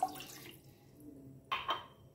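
Water splashes into a container already holding vinegar and bay leaves for homemade jalapeno pickle: a short, soft pour at the start, then two sharp clunks close by.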